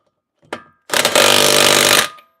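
A power tool tightens brake parts on a Miata in a garage: a brief tap, then a loud, close buzzing whir lasting about a second before cutting off.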